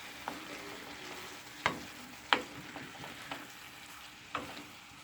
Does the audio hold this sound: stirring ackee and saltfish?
yes